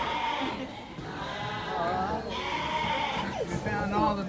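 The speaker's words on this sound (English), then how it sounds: "We found all the baby goats. All the baby goats are so friendly." Baby goats on a farm bleat in several close, wavering calls, one after another, over a low background.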